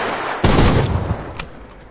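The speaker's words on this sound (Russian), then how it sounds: "слышно, как все стреляют" Gunfire from the online shooter Survarium erupts in a loud, close burst of shots that rings out and fades, with a sharp crack near the end.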